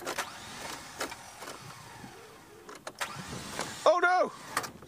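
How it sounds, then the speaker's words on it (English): A safari car's engine cranks but fails to start near testy elephants, giving short whirring starter bursts and a final strained whine amid scattered voices. "My car won't start."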